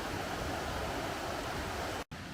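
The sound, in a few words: rushing water of Haltwhistle Burn stream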